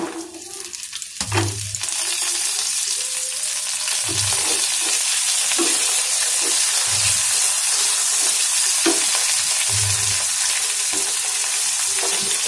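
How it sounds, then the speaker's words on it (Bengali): Ginger and garlic frying in hot oil, a loud continuous close sizzle with a steady hiss, punctuated every couple of seconds by low stirring knocks and scrapes of a spatula in the pan. "একটু হালকা হালকা ভাজা হয়ে গেলে এর মধ্যে দিয়ে দিচ্ছি আদা আর রসুন"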